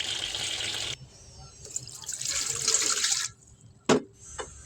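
A big kali boal fish gets washed with salt and a scrubber under running water: a gushing tap stream, rough scrubbing swishes, and a sharp clattering splash near the end, all close by.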